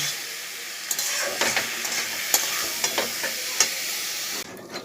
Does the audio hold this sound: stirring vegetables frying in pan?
yes